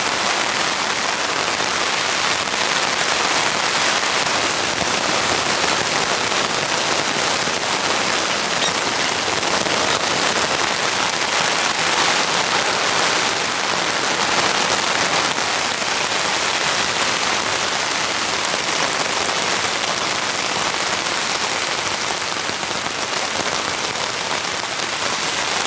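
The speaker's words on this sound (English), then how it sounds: "The rain is just getting heavier and heavier." Heavy torrential rain pouring steadily on a solo campsite, a dense, unbroken roar of drops hitting surfaces at constant loudness, with no voices.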